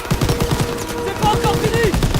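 Continuous rapid gunfire hammers at a train wagon in Call of Duty WWII, a loud, steady rattle of automatic shots with brief tonal game effects mixed in.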